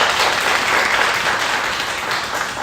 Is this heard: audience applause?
yes